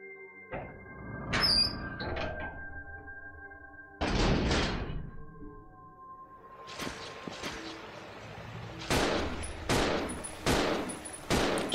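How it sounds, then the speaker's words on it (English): Scattered gunshots in the video game Resident Evil Zero, a few loud separate blasts spaced several seconds apart, mixed with squeaky and clanking game effects and tonal music cues. "Don't stop shooting."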